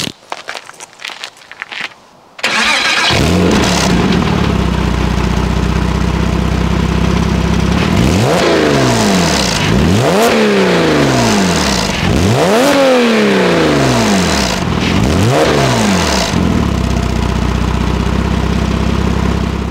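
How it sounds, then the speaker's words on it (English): Porsche Cayman S flat-six engine revved hard several times in a row from a steady idle, each rise and fall of revs loud and close with no talk over it. "So let's give it a decent rev, and you can have a look at the smoke and whatnot."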